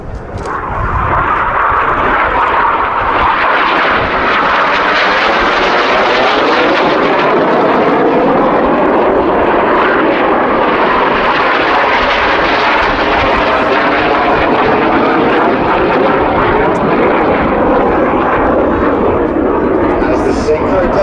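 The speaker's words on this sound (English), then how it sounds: "Here come the nose lights of the rest of the aircraft, rejoining for the show finale." Red Arrows jets roar through an airshow display at Kauhava, a loud, sustained engine rush that swells and shifts in pitch as the aircraft pass and rejoin for the finale, with commentary spoken over it.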